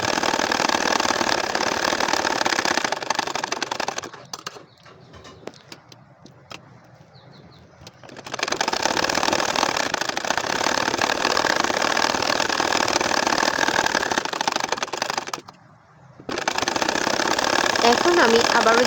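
A regular household sewing machine stitches a double potol-leaf nakshi kantha, running in two long close whirring bursts broken by quieter pauses where softer handling noises come through.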